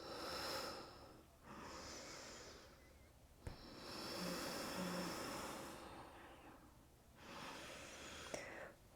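Deep, steady breathing during yoga pranayama practice, slow inhales and exhales rising and falling in long airy waves, close and soft, with brief clicks between breaths.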